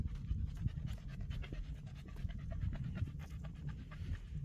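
Several dogs pant steadily and rapidly outdoors in the countryside, a continuous close breathy rhythm with faint ambient noise and no talking.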